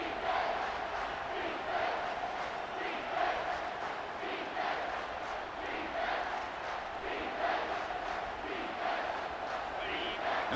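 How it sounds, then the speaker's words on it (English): A stadium crowd in the EA Sports College Football 25 video game gives a sustained roar that swells in waves as the defense holds in the red zone, with continuous cheering throughout. "And the crowd coming to life here, trying to help this defense down in the red zone."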